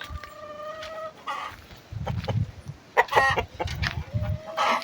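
A rooster crows nearby, mixed with bursts of hens clucking and scratching around close to the listener.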